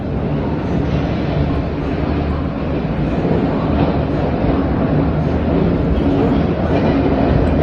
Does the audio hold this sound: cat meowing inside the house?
no